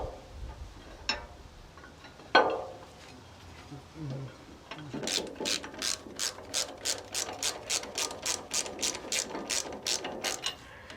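A ratchet tightens U-bolts on a Land Rover Series axle: a few scattered clanks first, then a steady run of about fifteen quick, crisp clicking strokes, close and clear.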